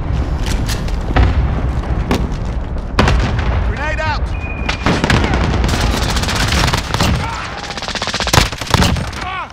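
A grenade exploding during a Call of Duty Modern Warfare multiplayer match, loud booms among dense bursts of gunfire and rapid shots, with shouted voice lines over the continuous battle noise.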